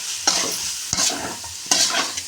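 Aloo fry, potato pieces being stirred in a frying pan, three bursts of scraping and sizzling as the spatula turns them, close and clear with no talking.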